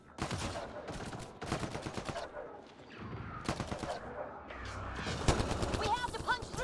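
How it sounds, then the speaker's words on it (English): Rapid bursts of gunfire in a Mass Effect Andromeda shootout, loud and close, clustered volleys with brief gaps, over a dense battle backdrop with voices mixed in. "Why are you in a shootout?"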